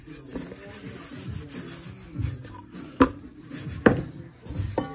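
A hand tosses four or five fish pieces through seasoned breading, producing soft close rubbing and scraping with a few sharper gritty rustles, faint and intermittent, no talking.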